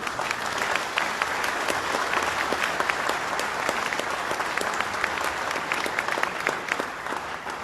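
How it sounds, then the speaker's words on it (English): An audience at an outdoor commemoration for the closure of the Cornwall mine gives a sustained round of applause, dense steady clapping from many hands at moderate volume throughout. "If you could just give them a round of applause, please."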